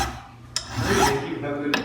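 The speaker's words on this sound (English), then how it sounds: "now we're going to file that and fit that surface" A file rasps against a metal part of a Beretta DT11 shotgun being reshaped and fitted, with steady close scraping strokes and a couple of sharp clicks, no talk.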